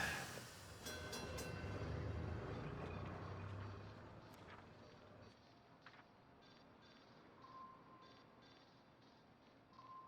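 A train rumbles by in a video game, a loud rolling roar that fades after a few seconds into a quieter hum with faint clicks and a brief tone near the end.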